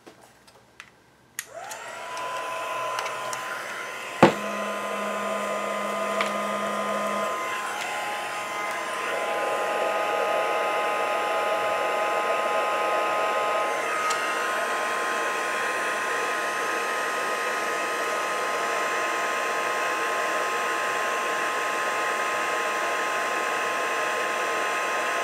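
A heat embossing tool starts with a click and blows hot air onto a card in a steady, loud whirring hiss that holds unbroken for over twenty seconds.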